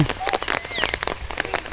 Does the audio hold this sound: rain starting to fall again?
yes